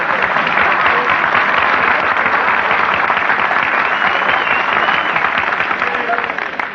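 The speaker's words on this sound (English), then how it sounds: "Nobody was supposed to applaud there." A studio audience applauds on a retro Christmas radio show: dense, steady clapping from a large crowd that stays loud and even for the whole stretch, fading slightly at the end.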